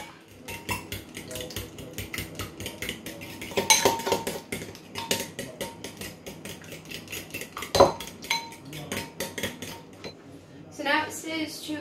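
Eggs beaten in a bowl with a utensil for a giant Jaffa cake: a fast, steady run of light clinks and taps against the bowl, fairly quiet and close, with a couple of louder knocks and a short voice near the end.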